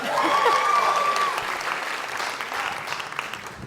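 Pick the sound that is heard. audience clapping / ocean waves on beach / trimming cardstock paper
audience clapping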